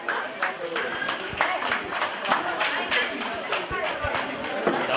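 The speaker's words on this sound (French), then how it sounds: "maximum d'applaudissements pour suñu yaay ji." Audience applause fills a graduation ceremony at a private lycée, a dense, steady wash of many hands clapping with crowd noise throughout, loud and continuous.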